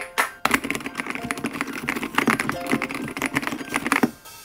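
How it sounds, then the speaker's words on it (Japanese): Steady run of mechanical key presses on an EPOMAKER TH80 Pro V2 compact 75% keyboard, a close, loud, fast clacky rhythm of many keystrokes alone without talk, stopping just before the end. "そしてこのキータッチのサウンド。"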